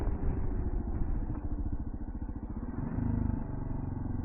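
Kawasaki KLR650 motorcycle engine running on a gravel road, a steady mid-pitched thrum with a slight rise and fall in revs, close and continuous throughout with no voices.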